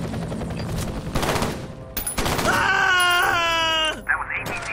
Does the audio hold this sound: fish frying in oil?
no